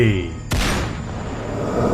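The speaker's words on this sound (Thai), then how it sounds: "เสียงปืนหลายนัดที่ดังแว่วมา" A gunfire sound effect in a Thai horror audio drama: a sudden loud blast cuts in after a fading musical tone, then rolls off into a long rumbling, reverberant tail.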